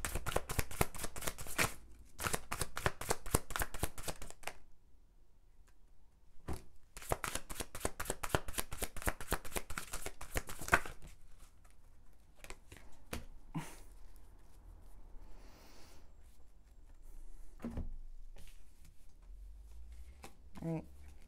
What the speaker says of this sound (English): Just flinging the cards around.